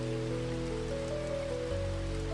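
Gentle rain falls as a steady, even hiss that fills the whole moment, with a soft tonal hum underneath and no voices.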